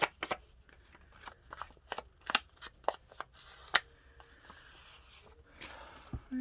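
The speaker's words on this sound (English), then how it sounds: "Basically, I just like to cut the white core of the paper." Paper being cut by hand while trimming a white core, heard as a series of short, crisp snips and rustles at an irregular pace, fairly close and quiet, with no talking.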